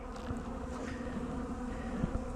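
Honey bees robbing the last honey from a failed hive make a steady, dense buzzing hum close by, with individual bees zipping past now and then.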